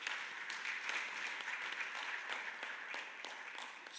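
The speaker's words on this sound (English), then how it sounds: "So can we give a round of applause to" Conference attendees at a joint CSO session give sustained applause, a dense, even wash of many hands clapping at close range that holds steady for several seconds without talk.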